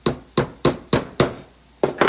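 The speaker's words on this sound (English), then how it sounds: "And then whacking it down with a hammer" A hammer strikes a soft wooden picket in sharp, steady blows, five evenly spaced hits, a pause, then two more, close and loud.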